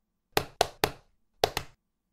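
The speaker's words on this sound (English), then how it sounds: "We hear feet tap," Five hard taps of feet on a floor, close by: three in quick succession, a pause, then two more.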